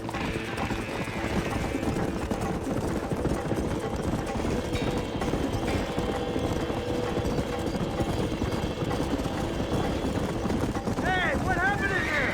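Horse hooves gallop steadily in a Red Dead Redemption game scene, a dense continuous clip-clop held under a busy mix of other game sounds throughout.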